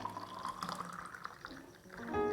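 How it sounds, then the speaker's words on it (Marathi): Watermelon juice is poured into a glass, a soft quiet liquid trickle that rises in pitch as the glass fills toward the end. "मस्त असा ग्लासात टाकून घ्यायचा"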